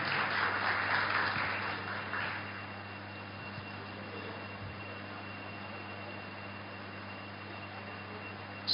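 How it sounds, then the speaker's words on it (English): Brief audience applause at an architects forum silver jubilee celebration in Mizoram, a short spell of clapping that fades within a couple of seconds into a steady hum of room noise. "one big round of applause for him"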